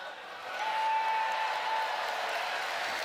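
A large audience cheering and applauding at the Final Fantasy XIV London Fanfest keynote, a steady distant roar of crowd noise that swells slightly and holds, with a faint voice under it.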